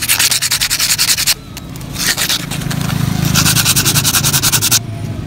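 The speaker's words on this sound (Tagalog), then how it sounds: "Pwede tayong gumamit ng liha" Rapid back-and-forth sandpaper rubbing, loud and close, in quick rhythmic strokes with a brief pause before the scraping resumes.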